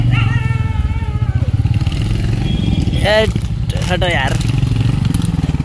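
Motorcycle engine idling and pulsing close by in a parking area, a steady low chug running under loud, excited speech from nearby people.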